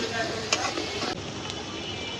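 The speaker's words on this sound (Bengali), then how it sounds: "পেস্টটা আদা ভাজা করছি" Ginger paste frying in hot oil in a pan, giving a steady, close, dense sizzle with a few sharper crackles over about two seconds.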